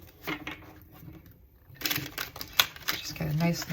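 Tarot cards being shuffled close by, a quick riffling patter of crisp clicks and flutters that grows busier after a brief pause, with a voice faintly present.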